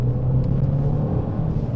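A small Abarth 595 hatchback engine pulls steadily as the driver accelerates, a continuous close, loud low rumble and drone with no talking over it.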